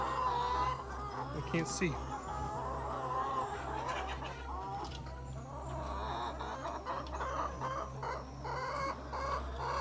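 Chickens cluck and murmur in the lower level of a farm raking house with rabbits housed above, a steady farmyard chatter under occasional nearby talk and some rustling.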